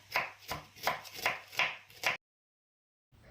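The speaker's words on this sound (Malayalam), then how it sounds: "ഇതുപോലെ സവാള സ്ലൈസ് ചെയ്തെടുക്കുക." A knife slices large onions on a board for Kerala-style beef kappa biriyani, giving about six crisp, evenly spaced cuts close up, followed by a sudden silence and a faint restart at the end.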